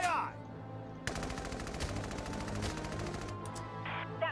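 Gunfire crackles in the war video game Valkyria Chronicles 4, a sustained rapid machine-gun burst over a low game backdrop, bracketed by brief other effects at start and end.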